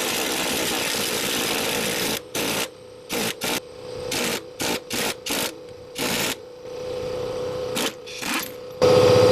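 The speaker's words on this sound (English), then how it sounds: "I'm going to try it with this impact. See what it does." Impact wrench tightening a bolt, loud and close, firing in about eight short hammering bursts separated by brief pauses, with a longer rattling run at the start and a final burst at the end.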